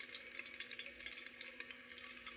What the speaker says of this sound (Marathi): आता फोडणी आपली चांगली बसली आहे लसूण अद्रक तेजपत्ता मिरचीला